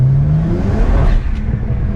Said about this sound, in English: I'm gonna leave the window open, that way you guys can hear some blow off noises